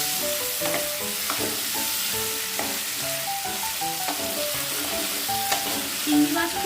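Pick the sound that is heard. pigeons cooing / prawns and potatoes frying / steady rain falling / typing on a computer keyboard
prawns and potatoes frying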